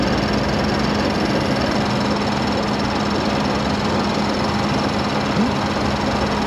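A Ford Escape engine runs steadily at idle with a cylinder misfire, a continuous close, loud mechanical drone with a steady low hum and no talking.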